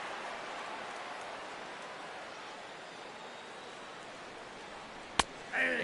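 Steady rain hisses down over a ballpark in MLB The Show, a soft, even wash of drizzle throughout, broken near the end by a single sharp crack and a brief murmur.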